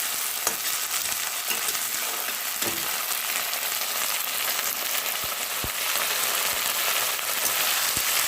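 Green beans and drumstick pods fry in hot oil for a bean curry, giving a steady, dense sizzle throughout with occasional sharp pops and stirring clicks, close by and without speech.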